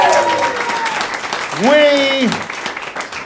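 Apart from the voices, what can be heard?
audience applause for Fastball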